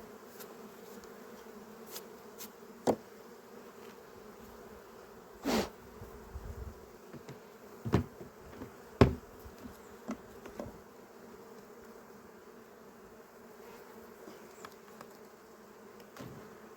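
Honey bees buzz steadily around a beehive frame during a sunflower-season honey harvest, a continuous low drone with occasional louder passes close by and faint handling knocks.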